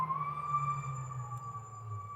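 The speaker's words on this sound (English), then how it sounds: "No brakes on that truck. Sounds like a howling dog." A truck's engine brake howls in the distance on a frigid outdoor morning. It is a steady, drawn-out wailing tone like a howling dog, held over a low rumble throughout.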